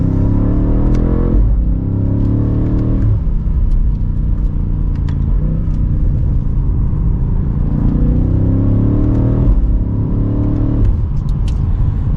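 A 2023 BMW M8 Competition Gran Coupe pulls hard from second gear, its engine note rising in repeated loud surges with brief dips between upshifts, heard from inside the cabin with no talking.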